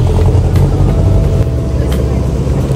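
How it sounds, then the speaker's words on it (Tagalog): A jeepney drives along a rainy Manila road, its engine a loud, steady low rumble with road noise heard from inside the vehicle, and a voice speaks over it. "Kaya ini-enjoy ko talaga bawat sakay ko ng jeep."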